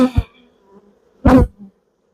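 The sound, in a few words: honeybees buzzing on the edge of a hive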